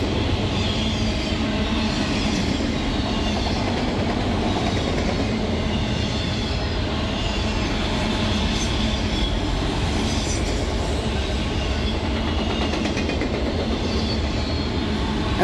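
A CSX freight train, M205, rolls steadily past on the former New York Central line in New York state. It is led by an ET44AH with an ES44AH working mid-train, giving a continuous loud rumble with rhythmic wheel clatter and faint squeal.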